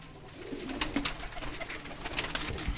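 Pigeons coo softly in repeated low calls amid a background of flapping and outdoor noise, close by at an evening loft of paired birds.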